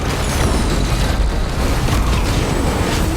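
Missile launcher in Risk of Rain 2 unleashing a dense, continuous barrage of loud overlapping explosions and bursts against a boss, with no break in the clamor.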